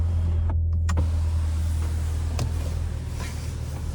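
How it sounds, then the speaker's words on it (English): The power sunroof of a 2022 Cadillac CT5-V Blackwing slides back under one-touch control, a steady electric motor whir inside the cabin lasting a few seconds, with small clicks as it travels. "this is one touch sliding the roof back"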